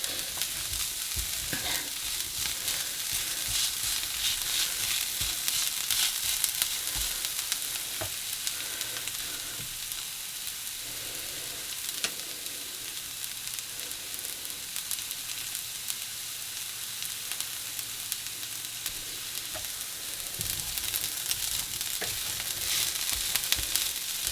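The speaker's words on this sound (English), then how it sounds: "I like it a bit toasted, so I'm just going to cook it till it starts to colour up a bit." Cauliflower rice and egg fried rice toast in a pan with a constant bright sizzle and frequent scraping stirs, loud and close throughout, with no voices.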